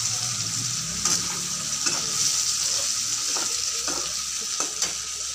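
Cauliflower and potato pieces fry in hot oil in a pan, a steady close sizzle broken by occasional scraping stirs, with a voice speaking briefly over it.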